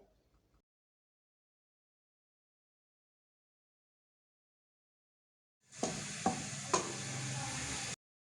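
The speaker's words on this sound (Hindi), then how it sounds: "जब इसका कलर हल्का सा चेंज हो जाए तो हम साथ ही इसमें प्याज़ों का पेस्ट ऐड करके इन्हें अच्छी तरह से भून लेंगे।" Onion paste sizzles and fries in a pan for a Dhaba-style masala dal, a steady loud hiss that starts abruptly after silence, with a few sharp clinks as it is stirred.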